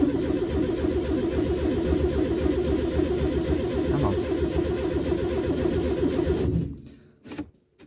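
Renault 10 car engine after a choke adjustment, cranking and running steadily at a loud, close, constant level for about six and a half seconds before cutting off, followed by a few brief knocks.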